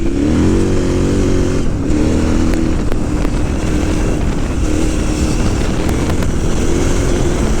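A KTM 990 Adventure S motorcycle engine roars loudly and steadily as it accelerates, pitch rising briefly at the start, with wind noise throughout.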